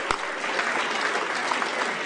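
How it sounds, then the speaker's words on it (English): Audience applause at a climate leaders dialogue during a global climate summit, a dense, steady wash of many hands clapping that fills the room at even loudness throughout. "give her a great big round of applause"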